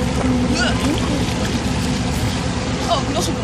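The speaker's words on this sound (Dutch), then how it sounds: "Oh, dat is een boot." A large boat passing close to people swimming in open water, its engine rumble a steady, loud low drone throughout with splashing water and excited voices talking over it.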